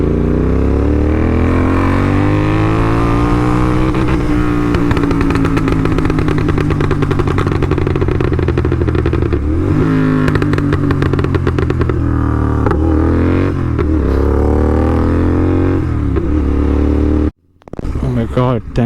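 A GT650 motorcycle is ridden on a road, with a loud, close, continuous engine drone that shifts pitch gently as it accelerates, then drops out abruptly near the end.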